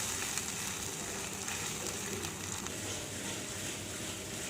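Soya chunks frying in oil in a pan give a steady, close sizzle with fine crackling patter, continuous and fairly even throughout.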